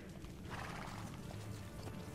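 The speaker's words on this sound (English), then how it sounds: "Faster to travel by horse." A horse in Assassin's Creed Brotherhood whinnies and gallops, a dense, steady stream of game audio with a neigh rising near the middle over continuous hoof and ambient noise.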